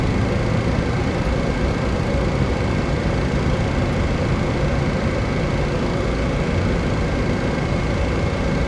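A vintage Boeing 707 jet engine spools up in Microsoft Flight Simulator 2024, a steady droning whine and rumble holding level without pause or voices.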